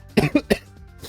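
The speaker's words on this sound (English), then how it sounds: "Yeah, and I'm coughing." Three quick, close coughs in a row, sharp and bursting, followed by a brief quiet breath.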